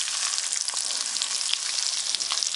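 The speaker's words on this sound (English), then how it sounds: "Shallow frying is the best." Kotlety patties shallow frying in oil in a wok give off a steady, dense sizzle with scattered pops and crackles, close and continuous without speech.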